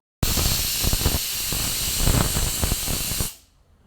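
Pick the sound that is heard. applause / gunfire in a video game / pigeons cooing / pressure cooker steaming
pressure cooker steaming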